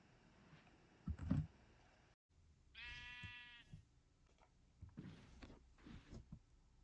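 A single wavering sheep bleat from the Minecraft video game rings out clearly near the middle, surrounded by faint clicks and soft game noises.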